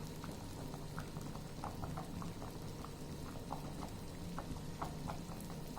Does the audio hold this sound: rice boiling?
yes